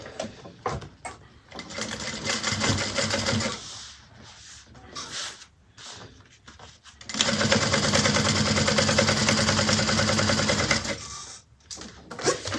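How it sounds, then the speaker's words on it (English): A sewing machine bastes around a bag pocket, running close in fast rhythmic stretches broken by short stops, with a longer steady run toward the end. "I'm just going to go ahead and baste around this to close off this pocket"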